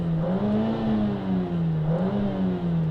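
New Audi RS3 engine droning steadily from inside the cabin in race mode, a smooth low hum with gentle rises and falls in pitch, fairly muted and without a sharp edge.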